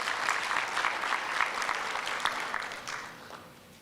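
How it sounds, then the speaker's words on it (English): Applause from an audience at a student conference, a crowd clapping with some distinct individual claps standing out, steady at first and then fading away over the last second or so. "Let's give him a good round of applause."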